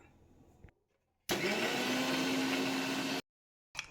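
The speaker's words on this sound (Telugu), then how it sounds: "అండ్ ఈ జీడిపప్పుని అయితే మనం అయితే మిక్సీ పట్టాలన్నమాట" A mixer grinder grinding cashews whirs loudly for about two seconds with a steady high whine, abruptly starting and stopping, with quiet gaps and a brief restart at the end.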